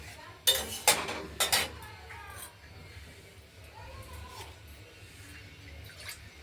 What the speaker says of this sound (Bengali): এবার কষানো হবে